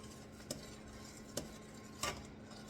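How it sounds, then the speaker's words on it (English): A spoon stirs butter into thick soup in a pot, giving three faint, sparse scrapes and taps against the pot over a low, steady background hum. "And I stir it really nicely until it melts."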